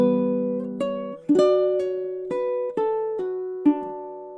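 Baritone ukulele plays two measures of the Irish tune Morrison's Jig, a handful of plucked notes and chords ringing over one another at a moderate pace, close and clear, with no one speaking.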